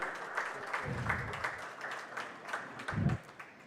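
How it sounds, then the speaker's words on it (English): Audience applause at an HR leadership conclave at a university, fairly faint clapping with a few thumping bumps, heard from a distance. "please have a huge round of applause for Shri Devangdani."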